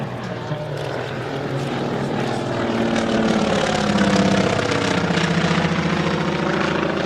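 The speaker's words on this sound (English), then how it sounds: "Two 985s on that airplane, big 450 horsepower engines on each wing, pulling it through the skies" A twin radial-engine airplane with two 450-horsepower 985 engines drones steadily overhead at an airshow, its deep engine hum and pulsing harmonics shifting slightly as it passes, loud and continuous.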